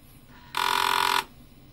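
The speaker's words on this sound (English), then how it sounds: "In a couple seconds, you should hear the Apple beep." An Apple IIe computer gives its startup beep: a single clean electronic tone of just over half a second, clear and moderately loud over a quiet background.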